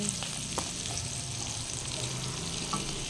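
Ginataang labong, bamboo shoots with salt, being stirred in a cooking pan, giving a steady close sizzle with soft scraping strokes throughout and no talking.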